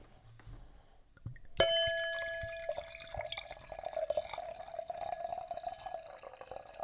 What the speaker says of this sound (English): And ASMR pour number 2.